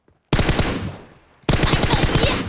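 Loud, close bursts of rapid automatic gunfire from the video game PUBG, two sustained volleys separated by a brief lull.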